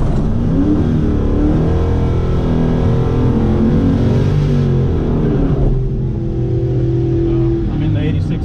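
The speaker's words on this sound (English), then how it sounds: "I'm in the 86 coupe. Still got the stock engine." A 1986 coupe with its stock engine, recently fitted with a new upper, idles and revs loudly and steadily nearby in hot outdoor conditions, its rumble rising and settling without a break while someone talks over it.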